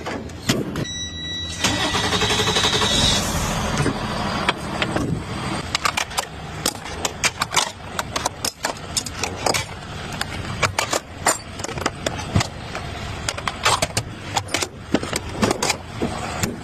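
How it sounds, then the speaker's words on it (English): An emergency road service truck's engine cranks and catches, then settles into a steady running idle, with sharp metallic clicks and rattles from nearby work over the top. "Let's turn on this truck."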